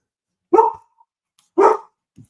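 Two loud, close barks from a dog indoors near a garage, spaced about a second apart, with nothing else around them.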